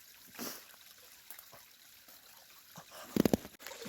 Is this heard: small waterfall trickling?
yes